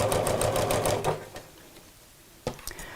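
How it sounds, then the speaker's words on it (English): A sewing machine stitches fabric toward a corner of the work, running in a fast, close, rhythmic burst that stops after about a second. A few short stitches follow near the end, with no voice. "I want to stop sewing this distance from the end of my work, so I can feel where the edge of the fabric is here"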